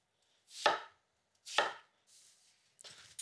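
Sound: knife slicing apples into slices

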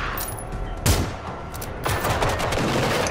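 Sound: gunshots from a video game

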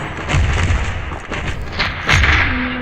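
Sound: grenade explosion in video game Standoff 2

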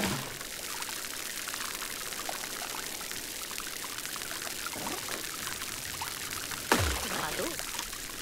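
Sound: watering a plant in Grow: Song of the Evertree video game

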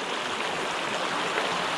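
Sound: stream rapids flowing over rocks

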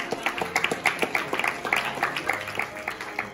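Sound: applause for the parents at a birthday party

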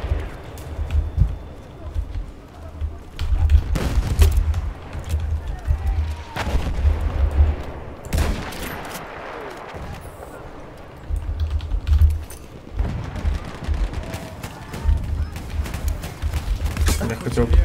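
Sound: gunfire in a video game

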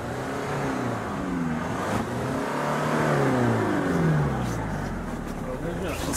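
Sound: Mitsubishi Pajero engine running and rattling

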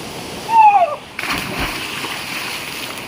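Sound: person jumping into stream, splashing

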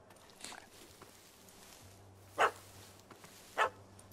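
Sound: dog barking in video game The Witcher 3

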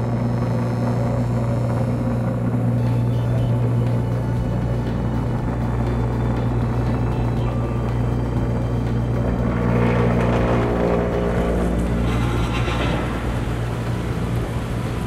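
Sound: self-priming pump running through its priming cycle

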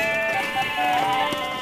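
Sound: goat bleating in a cartoon

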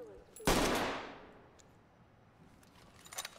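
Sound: gun firing in Ready or Not video game

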